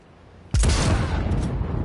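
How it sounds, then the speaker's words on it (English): Gunfire in Cyberpunk 2077 shooting through a wall: a sudden loud blast, followed by a sustained roar of rapid, dense shots. "Curious if I can shoot him"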